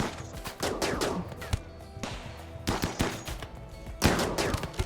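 Gunfire in the colony-management video game RimWorld, with bursts of sharp shots in repeated volleys, some rapid and machine-gun-like, loud and close with short gaps between them.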